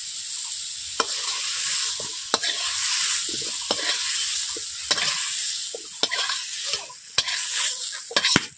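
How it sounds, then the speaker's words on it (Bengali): Sweet potato pieces fry in oil in a wok with a steady loud sizzle, broken at regular intervals by sharp scraping stirs of a spatula against the metal. "বন্ধুরা দেখতেই পাচ্ছেন রাঙালুগুলোকে আমি ভেজেই নিয়েছি।"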